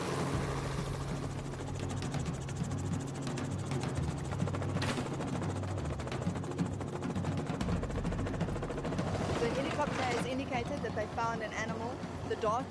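A helicopter's steady rotor and engine drone runs throughout, close and constant, under someone talking, as it scouts a game reserve in South Africa's Kapama Reserve for rhinos.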